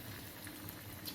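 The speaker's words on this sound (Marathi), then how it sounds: "तर याच्यामध्ये मी आता सोडते भजी" Onion bhaji batter sizzling as it drops into well-heated oil, a steady soft bubbling hiss with faint crackles, close and continuous, no voices.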